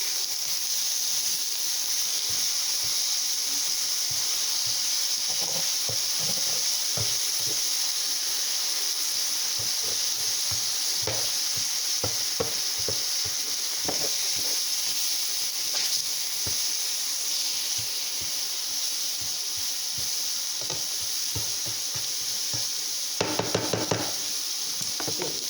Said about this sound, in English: You want to pop your meat up as it's cooking. Make sure it's all flat